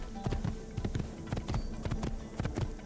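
Horse hooves clip-clop along a road in Assassin's Creed, a brisk, regular rhythm of hard taps, close and clear over a faint background hum.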